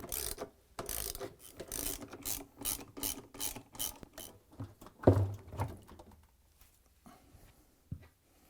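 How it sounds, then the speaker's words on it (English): A 10mm socket wrench ratchets in quick repeated clicks while unscrewing counterweight bolts on an LG/Kenmore washer, several rhythmic bursts close by, followed by a clunk and a few scattered knocks as parts are handled. "using the 10mm socket wrench, unscrew 4 bolts and remove the counterweight"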